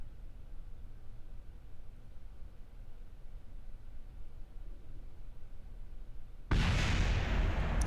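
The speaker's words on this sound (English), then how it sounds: "And it should explode." A detached rocket part blows up in Kerbal Space Program, a sudden loud, broadband roar that cuts in after a long stretch of low rumble and holds steady to the end.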